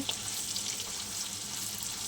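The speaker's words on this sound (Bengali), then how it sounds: "আমি মাছের ডিম আর মাছের তেল ভাজা করছি" Fish roe and fish fat frying in a pan give off a steady, even sizzle and hiss, fairly quiet, with no voices.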